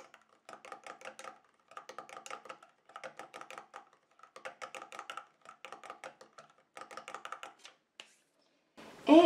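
A homemade milk-based anti-hair deodorant mixture being stirred in a container, giving bursts of rapid, light clicking and scraping in a steady rhythm, close and fairly quiet, with brief pauses between strokes.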